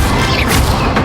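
In the video game Hogwarts Legacy, a Levioso spell is cast with a loud, dense magical burst that booms and crashes throughout a single brief moment.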